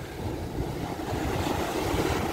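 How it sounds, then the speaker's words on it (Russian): Strong sea waves wash onto the Sea of Azov beach, a low continuous surging roar mixed with wind buffeting the microphone. "Волны, как джакузи, мощные такие, хорошие, дорогие."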